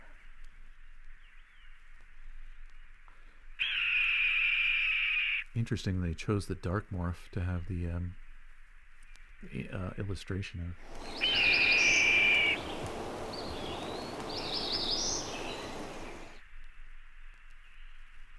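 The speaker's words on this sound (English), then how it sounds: "Red-tailed hawk." A recorded red-tailed hawk scream, a harsh descending cry heard twice, around talk from several people discussing birds, with a bird call playing between their voices.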